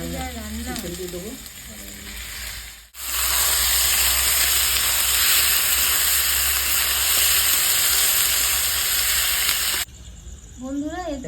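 Ginger garlic paste hits a hot pan for chicken kosha, setting off a loud, steady sizzle and hiss that runs for several seconds, with brief gaps of quieter kitchen sound before and after.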